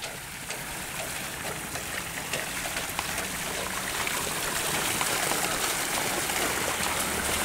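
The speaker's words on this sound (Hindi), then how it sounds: "किन्ना सोहना पानी आ रहा है" Water streams steadily from a Persian wheel well in Punjab, a continuous rushing and trickling that grows slightly louder toward the end, with no voices.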